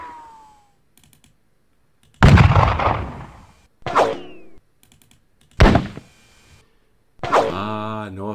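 Gunfire in a Napoleonic battle video game: several sharp, loud shots and bursts crack out at irregular intervals, each decaying quickly, with quiet clicking between them.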